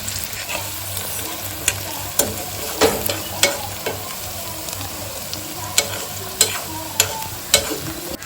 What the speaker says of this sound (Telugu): సో ఇంత బ్రౌన్ అయ్యేలాగా చేసుకోవాలి ఫ్రెండ్స్ ఆనియన్ ఫ్రై